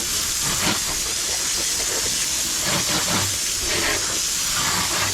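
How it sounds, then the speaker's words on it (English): Running water rinses freshly caught fish to clear off slime, a steady, loud hissing spray that continues unbroken from start to finish. "you want to give them a good rinse, get all the slime off of them"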